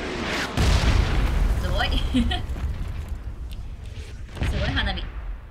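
In-game explosions in PUBG go off like fireworks: heavy, rumbling booms, one large blast near the start and another near the end. A voice talks excitedly over them.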